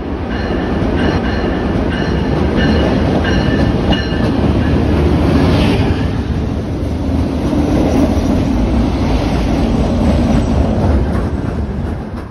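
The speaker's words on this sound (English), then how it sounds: "the WASH train rounded the bend" An MBTA WASH train on rails at Malden Center rounds a bend, a loud continuous roar of wheels with rhythmic clickety-clack and faint squeals, nearby and steady throughout with no talk.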